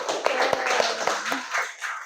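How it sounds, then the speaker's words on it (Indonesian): A classroom group claps in a quick, fairly regular rhythm for a few seconds. The sound is moderately close and not very loud, with faint voices underneath. "terima kasih, tepuk tangan dulu"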